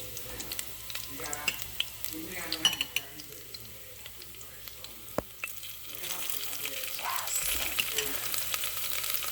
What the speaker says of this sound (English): I also will add the spring onions once I saute that a little bit.